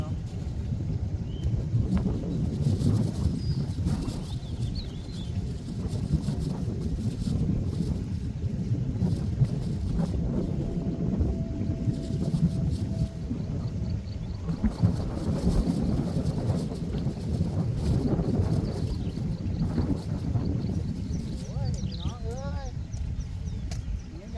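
Steady evening wind gusts across open water beside a lift-net fishing spot, a continuous broadband rush with buffeting on the microphone and occasional voices underneath.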